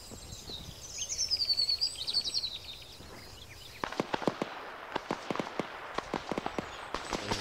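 Video game gunfire in a military shooter, a rapid string of sharp cracks and pops starting partway through and continuing irregularly, preceded by faint chirping ambience.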